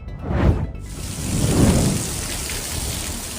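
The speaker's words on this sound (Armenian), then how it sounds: "Նյու Յորքում տեղացած հորդառատ անձրևների եւ հզոր փոթորիկների հետևանքով կաթվածահար է եղել" Heavy rain pours down hard during a powerful storm in New York, a loud continuous wash of falling water with a deep thunder-like rumble swelling early on.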